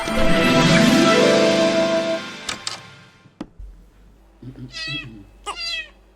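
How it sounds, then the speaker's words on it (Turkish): Two clear meows from a cat near the end, following a few seconds of loud broadband noise and scattered clicks and taps. "Bu kedi de nereden çıktı şimdi?"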